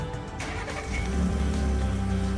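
A 2018 Ford F-150 Platinum 4x4 SuperCrew with the 3.5-liter V6 EcoBoost starting by remote start: the engine cranks, catches and settles into a loud, steady idle close by.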